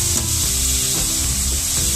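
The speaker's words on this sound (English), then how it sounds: "3 large chopped onions, half teaspoon of salt, and saute them well till the rawness of the onion goes" Three large chopped onions with salt sizzle and scrape in a hot pan as they are stirred, a loud, close, continuous frying hiss with rhythmic rubbing strokes of the spoon and no talking.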